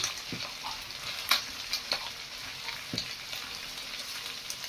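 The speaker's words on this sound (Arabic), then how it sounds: "هنزل بقى هنا بالبصل. تمام. وهشوح." Onions frying in a pan as they are stirred: a soft, even sizzle close by with a few light scrapes and taps of a spoon, and no voices.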